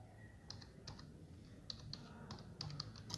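Soft keystrokes tap on a computer keyboard in short irregular runs, quiet and close over a faint steady background hum, with no talking.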